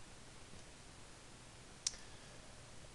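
A single sharp computer mouse click sounds once, close and brief, against a faint steady background hiss while files are selected in a web tool.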